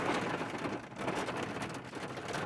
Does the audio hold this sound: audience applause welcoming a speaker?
no